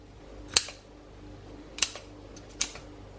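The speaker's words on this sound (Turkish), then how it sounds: "Sağlam bir ipten aynı ölçülerde ipler kesiyorum." Scissors cutting lengths of strong string, three sharp separate snips about a second apart, close and crisp against a quiet room hum.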